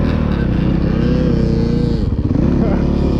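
A motorcycle engine drones loudly and steadily at a riding track where a rider pulls wheelies, its pitch sagging briefly and then climbing again near the end.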